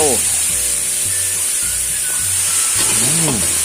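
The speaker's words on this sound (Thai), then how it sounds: "จะผัดไฟแรงเลยนะครับ" Minced pork, straw mushrooms and holy basil stir-fried on high heat in a wok, with a steady loud sizzle and hiss and occasional scraping stirs throughout.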